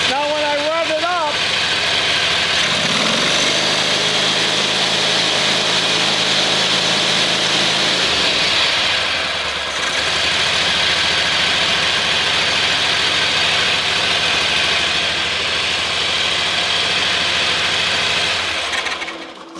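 A zero-turn mower engine with an intermittent spark fault revs up, a steady loud mechanical drone filling the whole span with a brief dip midway, while a person talks over it near the start.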